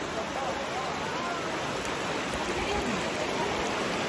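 A flowing stream rushes in a steady, broadband wash of water close by, continuous and fairly loud, with faint voices barely audible underneath.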